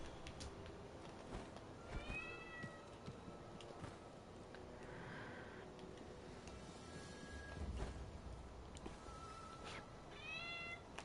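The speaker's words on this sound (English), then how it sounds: "There's a cat meowing outside that door." A cat outside a door meows faintly a few times, with short rising calls spaced apart over a low murmur of background noise during a Sekiro game stream.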